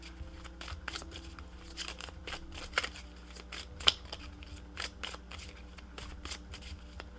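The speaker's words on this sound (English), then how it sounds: "And I'm also pulling you one of these cards as well." Tarot cards being shuffled and pulled from a deck, a run of quick, soft riffling flicks and snaps close up, fairly quiet and steady with no talking.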